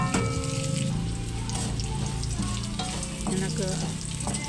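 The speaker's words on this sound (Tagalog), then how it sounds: "Medyo na golden brown na yung ating ginigisa" Diced pork with aromatics sautés in a pan for adobong takway, a loud, close, continuous sizzle with occasional stirring scrapes, heard alone without talk.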